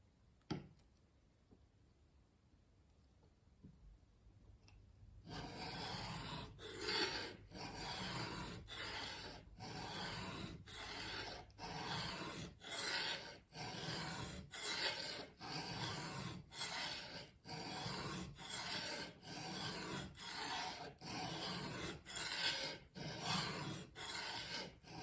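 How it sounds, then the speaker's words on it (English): An axe is honed on a 350 grit diamond plate, its blade scraping in a steady rhythm of close, rasping strokes after a few seconds of near quiet. "I'm starting off on a diamond plate. This is a 350 grit plate."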